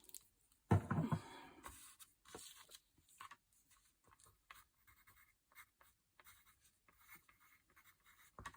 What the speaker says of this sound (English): Oh, I have to write this down.